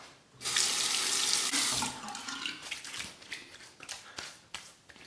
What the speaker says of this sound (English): A quick face rinse,